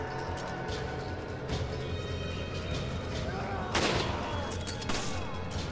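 Guns firing in Resident Evil 5 gameplay, a steady stream of shots and bursts with one louder blast near the middle, set against continuous game music and ambience.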